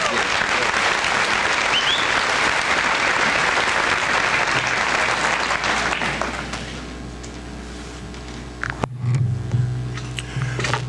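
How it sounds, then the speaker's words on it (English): Sustained, dense applause from a high school senior assembly audience fills the room loudly for about six seconds, then fades into scattered claps and low room noise with a brief thump. "I'd like to give him a personal round of applause"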